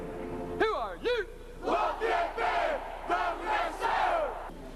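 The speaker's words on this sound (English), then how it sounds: "a large crowd, many wearing red, white, and blue, greeted the Lafayette band" A large crowd at a football field greeting the Lafayette marching band in 1995, loud whoops and rising cheers in repeated waves, with several voices yelling together.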